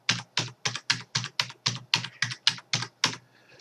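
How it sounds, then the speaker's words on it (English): Rapid, even keystrokes on a computer keyboard as team numbers are entered, about a dozen crisp, loud clicks in steady rhythm, close to the microphone and with no voices. "Now what I do now is type in here the team numbers crossways."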